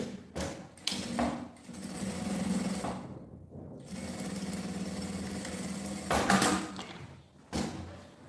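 Sewing machine stitching a seam on a cosmetic bag, a steady mechanical whir running in bursts with short pauses between runs, close and moderately loud.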